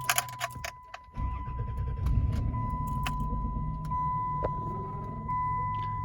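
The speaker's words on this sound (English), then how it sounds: "you'll hear the blend door squeak a little bit, as you just heard" A car with a stock vacuum-operated air conditioning system starts up: a few clicks, then the engine catches and settles into a steady low idle, with a faint squeak from the blend door riding above it.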